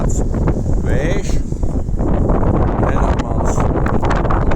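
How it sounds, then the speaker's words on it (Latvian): Strong wind buffets the microphone outdoors in a loud, constant rumbling roar, with a person talking over it throughout. "bet nu kādā ziņā tāds vējš"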